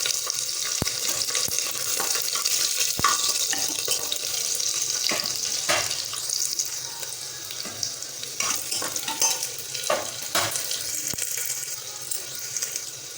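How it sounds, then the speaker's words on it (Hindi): Garlic frying in a pan with cumin, bay leaf and green chilli while cooking chickpea dal, heard as a loud, steady sizzle close by, broken by the scrape and clatter of stirring. "तापर रसुण पकेबा"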